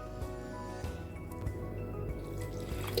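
Water added little by little to sughiyan batter while it is mixed by hand, giving soft wet squishing and dripping sounds that run steadily and close by under a low background hum.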